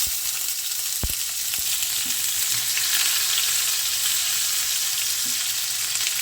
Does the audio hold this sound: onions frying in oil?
yes